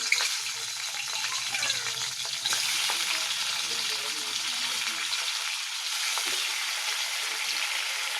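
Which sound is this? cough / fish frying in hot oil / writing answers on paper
fish frying in hot oil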